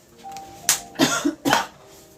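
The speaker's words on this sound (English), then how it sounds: "the cough just won't let up." Three short, harsh coughs in quick succession, close and fairly loud, with quiet room tone between them and no talking.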